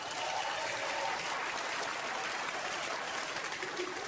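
A comedy club crowd at a stand-up show applauds, a continuous, even wash of many hands clapping at a distance, steady throughout without a clear peak.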